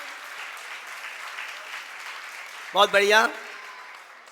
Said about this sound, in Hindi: जोरदार तालियां बजाओ उनकी अनुमोदना में।